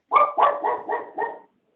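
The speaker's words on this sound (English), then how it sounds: "Somebody's dog is barking." A dog barks five times in a quick, even series of close, loud barks, heard alone against silence as it carries over an online sales meeting call.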